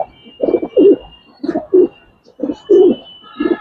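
Giribaz pigeons coo in a loft, several soft throaty coos repeating in a steady rhythm, close and clear with no talk.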